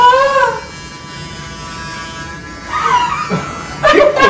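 A steady electric hair clipper buzz hums close by during a haircut, with a few brief voices and vocal sounds rising over it near the end.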